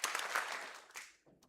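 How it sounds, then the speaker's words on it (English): An audience at a senior honors ceremony gives one sharp clap in unison, a single loud burst that quickly fades, followed by a brief softer sound near the end. "we're gonna give them one Norse clap"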